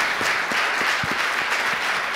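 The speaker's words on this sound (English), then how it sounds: "Round of applause for Jason Gay, everyone" Studio audience applauding a guest on a talk show: a loud, even wash of many hands clapping together, sustained throughout with no talking.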